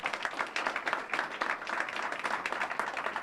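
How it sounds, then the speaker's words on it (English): An audience claps in a dense, steady round of applause at a corporate announcement event, moderately distant and sustained throughout with no speech over it. "You can give a round of applause for that."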